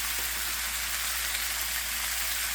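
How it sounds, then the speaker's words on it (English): Meat sears in a hot cast iron pan for birria, a steady, dense hiss of sizzling fat that stays even and close throughout, with no talking over it. "Listen to that sizzle."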